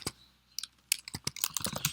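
Typing on a computer keyboard, irregular bursts of sharp key clicks at close range, alone without talk, quick runs of keystrokes separated by short pauses.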